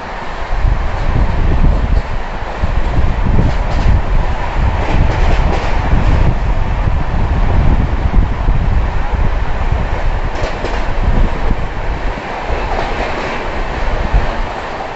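Vizag Steel Superfast Express train running through Bhilai Power House station without stopping, a loud, steady rumble of wheels and carriages with rhythmic clatter throughout, heard from on board.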